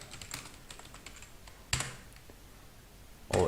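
Computer keyboard typing while entering data in Busy manufacturing accounting software, quick scattered keystrokes with a sharper clack near the middle and a louder key press at the end, close and alone.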